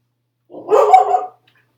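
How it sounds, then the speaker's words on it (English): A dog barks in a short burst of two or three close, loud barks that run together over about a second, heard alone with no talking. "Sorry about the dog barking in the background."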